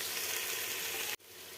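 Masala sizzling in hot oil for vegetable biryani, a faint steady hiss that cuts off abruptly near the end.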